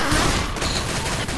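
Gunfire in the video game Left 4 Dead 2 crackles in a dense, continuous burst, loud and close, with no pause over the short stretch.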